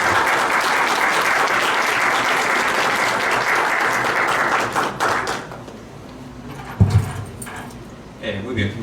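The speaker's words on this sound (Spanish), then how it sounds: "Aplausos para él." An audience at a conference on auxetic materials breaks into loud, sustained applause that fills the room, then fades out as voices and a few scattered claps and knocks take over.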